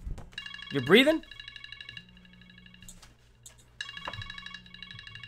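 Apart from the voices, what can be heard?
phone alarm ringing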